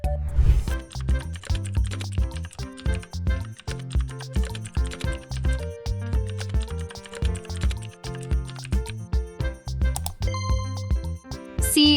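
Fingers type a Python program on a computer keyboard, with steady bursts of key clacks that come close together, pause briefly, then resume throughout, with no talking.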